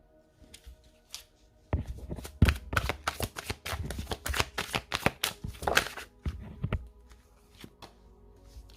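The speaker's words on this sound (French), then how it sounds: "On va remettre une carte dessus." Tarot cards are riffled and shuffled close by in quick crisp bursts, then a few softer slaps and taps as cards are laid down, with quiet gaps between.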